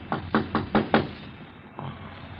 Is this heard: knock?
yes